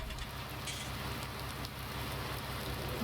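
Steady rain falls in the farming video game Farming Simulator 19, a dense, even hiss of drops on surfaces that continues close and unbroken, with no talk.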